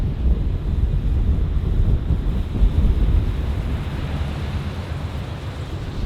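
Steady wind on the South Australian coast buffets the microphone with a low, constant rumble. A faint wash of surf sits beneath it, and no one speaks.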